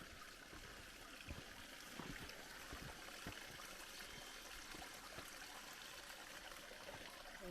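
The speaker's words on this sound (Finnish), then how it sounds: "Ja täällä lorisee sitten tunturipuro." A mountain fell stream in Finnish Lapland, swollen by recent rain, babbles and trickles steadily and close by, a continuous broad wash of running water with small splashes throughout and no voices.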